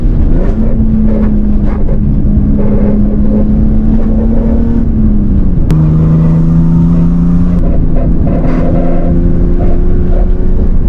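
A car on Maxpeedingrods T7 coilovers accelerates in a few short pulls, engine tone rising, dropping at a shift and rising again, heard loud from inside over constant road and wind roar.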